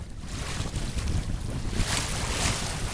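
Choppy water sloshes and slaps around a small Hobie sailboat while gusty wind roars across the microphone, a steady rushing with no voices.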